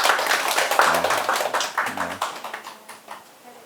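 A small audience claps together for a new 61st-class trainee at a lecture session, a brisk run of close, scattered hand claps that tapers off over a few seconds, with a brief voice in between.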